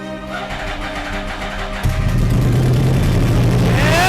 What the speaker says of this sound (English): started the bike for the very first time